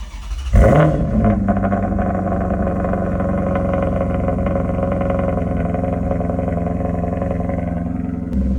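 A Maserati GranTurismo's 4.7-liter engine fires up with a sharp revving burst, then settles into a deep, steady rumbling idle, close and loud throughout.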